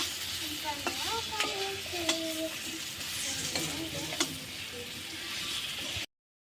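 Pointed gourd, potato and paneer stir-fried with spices in a pan, soft sizzling under several sharp clinks and scrapes of a metal spatula, fairly quiet and close, ending abruptly in silence.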